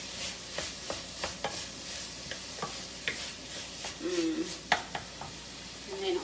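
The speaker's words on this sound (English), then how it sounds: "Just want to give it a really nice mix to kind of combine everything." Lobster fried rice is stirred and tossed in a hot pan, a low sizzle under repeated scraping and tapping of a utensil at an uneven pace, close, with a faint voice briefly underneath.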